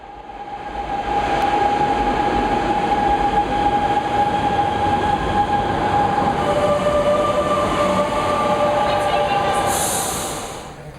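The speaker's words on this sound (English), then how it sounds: "Do we want to walk down and get the metro?" Subway metro train ride, a steady loud rumble of the carriage with high whining tones and rail noise throughout, fading in and out at the ends.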